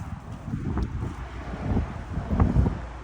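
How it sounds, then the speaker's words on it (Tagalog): Strong wind buffets the microphone in low, rumbling gusts that swell and fade, with a louder surge near the end. "Hangin, grabe."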